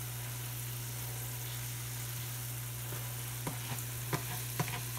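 Pork carnitas and onions frying in a pan, giving a steady quiet sizzle with a few soft scrapes and taps near the end as the mix is stirred.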